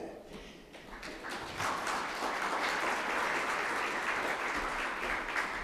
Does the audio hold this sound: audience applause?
yes